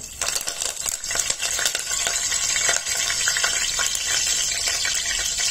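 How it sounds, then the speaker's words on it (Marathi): A dense, close crackling sizzle of 10 to 12 curry leaves dropped into hot oil for tempering, with spoon stirring scrapes throughout. "तेल गरम झालेलं आहे. त्यात आपण 10 ते 12 कढीपत्त्याची पानं घालूया."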